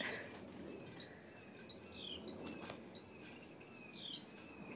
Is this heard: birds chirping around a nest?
yes